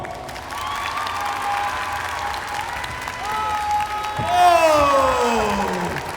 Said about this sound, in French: Est-ce que vous pouvez faire un maximum d'applaudissements pour Big Bang?